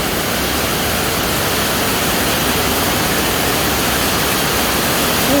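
Rushing floodwater, a loud, constant broadband roar that goes on unbroken, with no voices.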